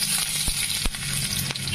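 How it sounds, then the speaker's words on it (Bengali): Chopped garlic, green chillies and curry leaves dropped into hot oil for chicken 65, a loud, dense crackling sizzle that holds steady with a few sharp spatters. "দেখুন তেল গরম হয়ে গেছে, তো আমি এখন নিয়ে নিচ্ছি এর মধ্যে রসুন কুচি, কাঁচা লঙ্কা কুচি আর"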